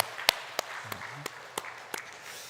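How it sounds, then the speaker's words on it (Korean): Sparse, scattered hand claps from a church congregation during a worship service, about seven separate claps spaced unevenly, faint and somewhat distant in a quiet room. "우리에게 생명의 말씀을 허락하신 우리 하나님께 영광과 찬양의 박수 올려드리겠습니다."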